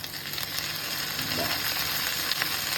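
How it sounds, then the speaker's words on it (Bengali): Onion and garlic fry in a pan for a jute-leaf dish, giving a steady, close, crackling sizzle that holds at an even level throughout with no talking. "আগে পেঁয়াজটা ভেজে নেওয়া হচ্ছে রসুনটাও একটু ভাজা ভাজা হতে না হতেই চলে গেল"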